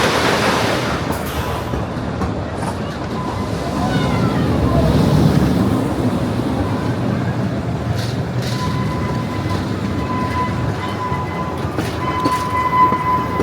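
A steady, roaring rumble of a roller coaster train running along its track at Blackpool Pleasure Beach at night, swelling and fading with broadband wind-like noise and faint distant voices.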